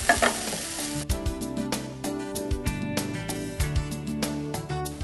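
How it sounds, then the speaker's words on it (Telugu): Chukka kura greens fry in a pan with a loud, continuous sizzle, cut by regular stirring strokes and scraping clatters from a utensil, with no voices over it. "సో చుక్కకూర ఫ్రై అయిపోయింది"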